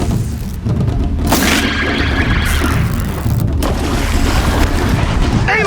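A machine's canister bursts in a loud explosion in Horizon Zero Dawn, a heavy boom and crashing rumble that fills the scene, followed by sustained roaring debris and combat noise.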